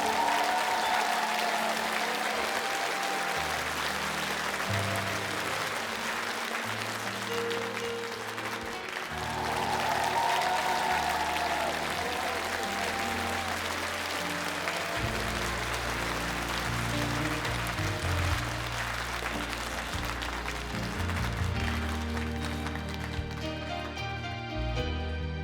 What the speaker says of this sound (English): Parents, we absolutely have to give the class of 2021 a standing ovation